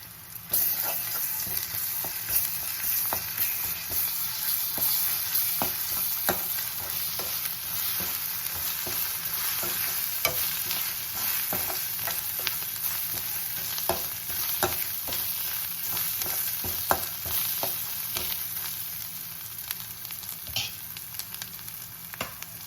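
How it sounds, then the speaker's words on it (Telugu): Ginger garlic paste fries in a pan for a cucumber curry, a constant close sizzle broken by repeated scraping stirs at an irregular pace, quiet and steady with no speech. "ఇందులో అల్లం వెల్లుల్లి పేస్ట్ కూడా వేసుకుందాం."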